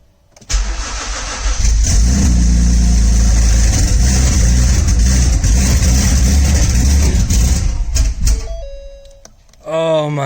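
A 600+ horsepower all-wheel-drive Ford Taurus SHO build cranks and catches, its engine roaring steadily and loudly for several seconds before cutting out, then cranking again at the end; a voice speaks over it.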